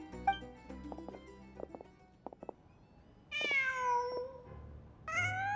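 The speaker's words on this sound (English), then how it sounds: "Huh. Just a cat." Cat meowing in the Genshin Impact video game, two drawn-out meows after quieter game sounds and soft clicks, fairly clear with no talk over them.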